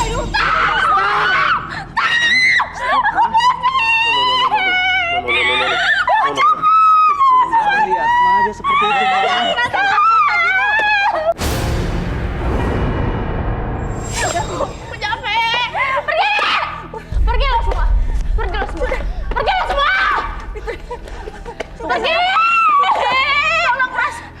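A person screams loudly and repeatedly in a tense domestic argument scene, shrill cries rising above frantic overlapping talk, with a burst of noisy commotion midway before the shouting resumes.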